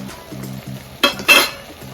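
Potatoes and tomatoes hit hot oil with mutton for a spinach mutton curry, a close sizzle with two sharp bursts of frying and stirring, with light metallic clinks.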